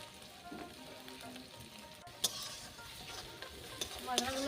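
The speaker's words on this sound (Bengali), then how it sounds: "মশলাগুলো খুব ভালো করে ভাজা গেছে, দেখুন তেল ছাড়ছে" Spices sizzling and being stirred in hot oil while cooking an egg masala curry, with garlic and ginger paste, chili powder and turmeric, a steady close fry with scraping stirs and a few sharper clinks, no talk.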